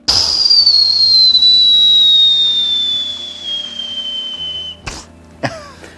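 Using only his voice, a man imitates a Diwali rocket firework: a loud whistle slides slowly downward as it climbs, then gives way to short bursts for the explosion.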